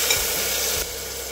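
Tomatoes and onion sauté in a pan, giving a steady close sizzle with stirring scrapes throughout, and the sound drops slightly in level near the end.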